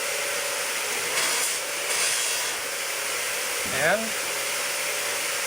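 A buffing machine whirs steadily against a sanded RZ350 motorcycle wheel, a continuous hissing grind with brief surges in loudness and a short squeal near the end.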